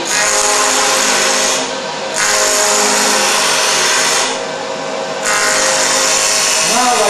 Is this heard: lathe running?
yes